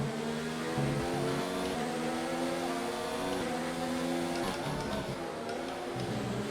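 A Formula 1 car engine in the F1 2019 racing game at the Russian Grand Prix, a steady high-revving drone with layered harmonic whine and small pitch shifts through gear changes, loud and continuous throughout.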